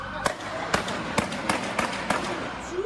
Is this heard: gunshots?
yes